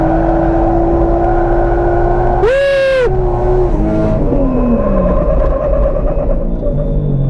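A Subaru WRX STI slides through wide-angle drifts, its engine droning and swelling steadily with a brief sharp whine or tire chirp in the middle, heard from a steady rumbling distance with no talk.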